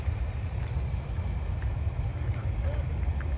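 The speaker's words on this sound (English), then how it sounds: "Dude, you can hear the engines." Jet airplane engines roaring during takeoff at an airport, a steady low rumble with broadband wind-like noise, continuous and fairly loud throughout.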